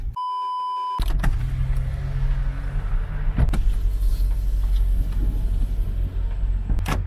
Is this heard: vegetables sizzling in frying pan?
no